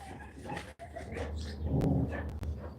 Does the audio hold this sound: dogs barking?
yes